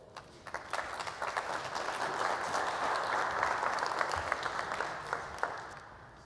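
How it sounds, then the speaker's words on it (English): An audience at a dental implant lecture applauds to welcome a speaker onto the stage: sustained, moderately loud clapping from a crowd, swelling in the middle and thinning toward the end, with no talk over it. "So please join in applause and welcome Steven on stage."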